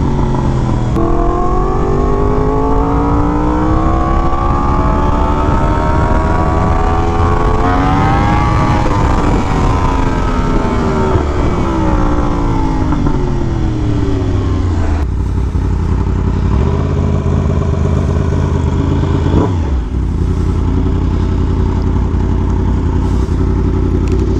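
A sport motorcycle is ridden hard, the engine loud and close as it climbs through the revs, falls back, shifts and pulls again across a long stretch with wind noise, and nobody speaks.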